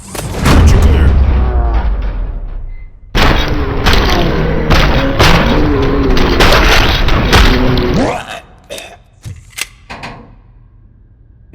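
Gunfire in RoboCop: Rogue City, loud dense bursts of heavy shots and booming impacts sustained for several seconds after a brief pause, then scattered sharp single shots trailing off into quieter ambience.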